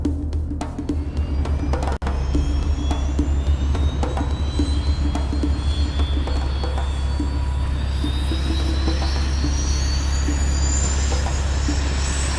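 The jet engine of a Turkish Kaan fighter roars in a loud, continuous, steady blast with a deep rumble, while a slowly rising whine climbs throughout and a brief sharp crack comes near the start.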